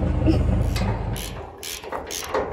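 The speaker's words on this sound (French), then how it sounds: "Émilie Jolie est en train de mettre les boulons de fixation pour relier, pareil, toujours, la benne au plateau de benne." Fixing bolts being fitted to attach a bin to a trailer while preparing for the grape harvest, heard as close, steady ratcheting clicks and metallic mechanism noise.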